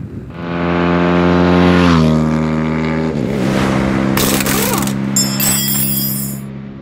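An old motorcycle's engine runs loud on a dyno, its tone holding high and then dropping as the revs fall, before settling into a lower, uneven running note with some sharp high-pitched noise.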